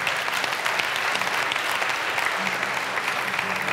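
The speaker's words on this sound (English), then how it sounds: "yeah, you can clap for that." A church congregation applauds steadily and densely throughout, a full room of hands clapping at even volume with faint voices mixed underneath.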